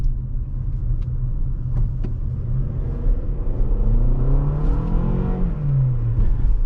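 A 2021 Toyota RAV4 SUV's engine accelerates from inside the cabin, a steady low rumble rising into a climbing whine as revs build, continuous and fairly loud with no talking.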